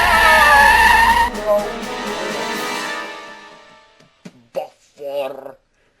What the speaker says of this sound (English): His driver applied the brakes hard, but his tyres couldn't grip the snowy roads.